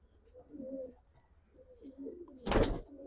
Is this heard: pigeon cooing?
yes